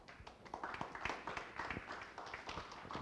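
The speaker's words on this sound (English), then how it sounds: "we'll give a round of applause" Applause from a live audience at a talk, a soft, quiet patter of clapping hands that holds steady throughout.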